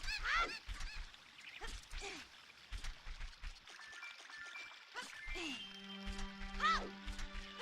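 Cucco chicken squawks and honks from the Zelda Ocarina of Time 3D game, several short clucking bursts spread across the clip among game sounds and chimes, fairly close and clear.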